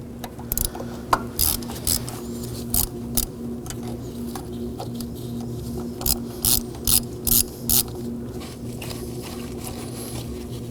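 A ratchet clicks in quick bursts while loosening high-pressure fuel pump bolts on a 2014-2020 Acura MDX 3.5L V6, several short runs of close, sharp pawl ticks separated by pauses over a low steady hum.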